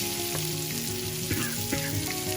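Chopped onions for a spicy egg masala hit a hot oiled pan, giving a steady close sizzle with a few stirring scrapes and clicks throughout.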